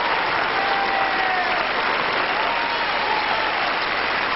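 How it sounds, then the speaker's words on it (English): A large tennis crowd at the Long Island 2001 final applauds steadily and loudly throughout, a dense continuous wash of clapping with no gaps. "And a big hand from this crowd here."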